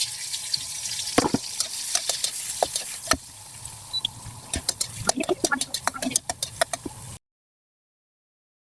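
Onions sauté in oil in a pan while cooking sinigang, giving a bright crackling sizzle with sharp pops and clatters that stops abruptly near the end, with a voice speaking at times.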